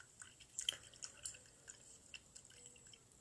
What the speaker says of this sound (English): Rinse out my brush.